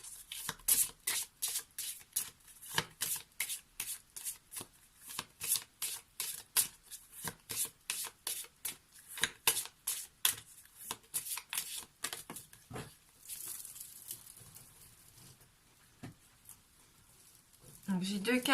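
Tarot cards shuffled in steady rapid riffling bursts, close and crisp, continuing for most of the stretch before two cards drop out and the handling briefly changes.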